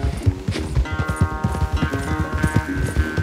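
A horse gallops in Red Dead Redemption 2, its hooves pounding in a fast, steady rhythm of loud, close thuds, with a sustained musical tone running underneath.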